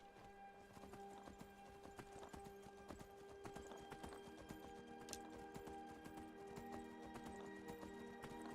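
Shadowmere, a horse in the video game Skyrim, gallops with a rapid, continuous clip-clop of hooves over steady game music and ambience, fairly quiet in the mix.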